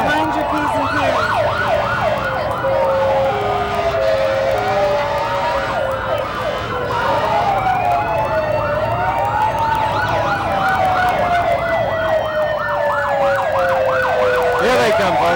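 Several emergency vehicle sirens wail and yelp together at a 1988 parade, overlapping loud and close in continuous rising and falling sweeps with rapid warbling cycles and traffic noise beneath.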